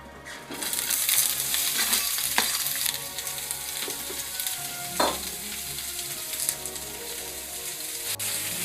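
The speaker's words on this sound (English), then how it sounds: "So we're going to throw it into the oil that's been heating up on the pan over here." Onions and peppers dropped into hot oil in a pan, crackling and sizzling loudly and steadily close by, with a few clattering stirs and no voices.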